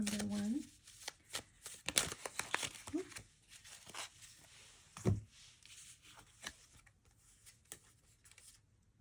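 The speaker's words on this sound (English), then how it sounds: "Let me just get a couple more cards." Tarot cards are shuffled and drawn with close papery riffles, flicks and slaps, heard beneath a voice speaking and a faint dog-like sound.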